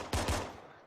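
Two quick pistol shots in Arma 3 crack in fast succession, close and punchy, followed by a fading echo.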